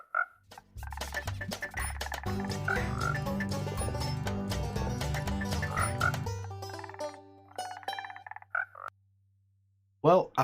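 Frogs in the video game Minecraft give short, throaty croaks near the start and again toward the end, with a run of tonal game sounds in between.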